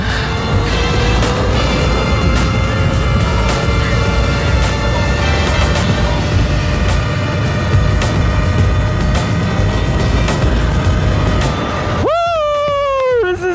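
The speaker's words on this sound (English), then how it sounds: "All right, top speed run, 8th mile run right here." Talaria Sting R electric dirt bike on a top speed run, a loud continuous whine of the motor rising steadily in pitch under heavy wind rush, close and intense throughout, with a sharp falling tone near the end.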